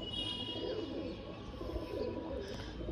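A male pigeon coos in a steady, rolling run of low murmuring calls, close and continuous, over a busy background with no talking.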